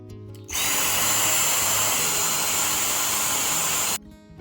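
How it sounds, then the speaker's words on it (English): A vacuum cleaner sucks up styrofoam pieces from a plywood train table, starting abruptly with a loud, steady whine and roar that runs unbroken for about three and a half seconds before cutting off. "Let's get the styrofoam out of there with the vacuum cleaner"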